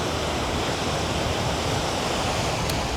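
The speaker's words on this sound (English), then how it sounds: "It's actually the most surf I can remember." Steady roar of heavy ocean surf at Playacar beach in Playa del Carmen, a dense continuous wash of breaking waves filling the air with no voices.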